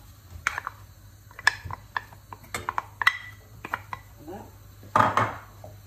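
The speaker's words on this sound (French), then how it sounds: "Là je mets une sauteuse, je vais mettre mon beurre à fondre." A metal sauté pan clanks down onto a stovetop amid a run of sharp kitchen clatters and knocks, close and fairly loud, with a heavier clattering thump near the end.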